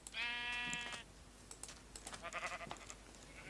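A Minecraft sheep bleats in one loud, wavering call lasting nearly a second, followed by scattered clicks and softer game noises.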